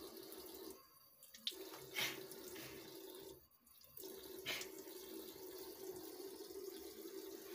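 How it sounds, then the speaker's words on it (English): Tap water running into a sink during wudu ablution while the nose is washed, a quiet steady stream broken by brief interruptions and splashes as hands move under it; no talking. "the third step, we should wash our nose"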